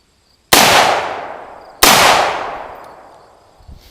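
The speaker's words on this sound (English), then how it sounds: "so I just fire again" Two sharp gunshots from an AR-15 or 1911 pistol, about 1.3 seconds apart, each loud and close with a long decaying echo, followed by a faint clatter.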